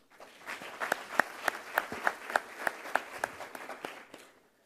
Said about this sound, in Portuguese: Poderíamos agradecê-lo também com uma salva de palmas